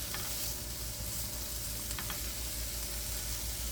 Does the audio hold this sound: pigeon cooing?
no